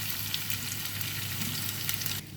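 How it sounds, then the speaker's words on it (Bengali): Onion and garlic sizzle and fry in a pan for a chicken pasta dish, a steady close crackle with no talk that cuts off sharply near the end. "এই জন্য পেঁয়াজ রসুন দিয়ে দিচ্ছি।"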